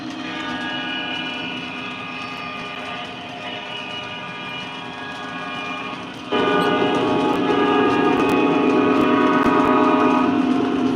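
An O scale model Amtrak train with a converted F unit cab car runs steadily on track, its motor giving a continuous humming drone that grows louder partway through.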